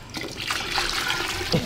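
Water pours steadily into a pot of Filipino duck blood soup, a close, continuous trickling splash lasting under two seconds.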